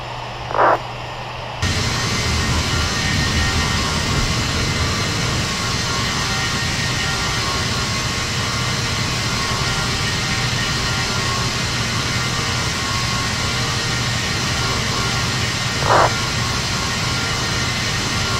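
An airliner in an online flight simulator rolls for takeoff, its engines holding a loud, steady broadband roar after a quieter opening, with faint brief chirps at the start and near the end.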